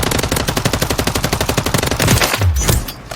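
Automatic rifle firing in Call of Duty Warzone, a Kilo 141 build, fired in a rapid steady burst of closely spaced loud shots for most of the stretch, then breaking off near the end into a couple of heavier thuds.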